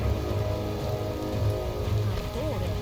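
Rain in the video game Biomutant patters steadily and densely on surfaces, fairly loud, while a voice or tonal sounds run faintly over it.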